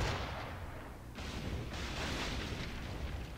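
Ship cannons fire at small gunboats during a naval battle in the video game Assassin's Creed IV: Black Flag, a dense rolling rumble of booms with a fresh heavy burst partway through.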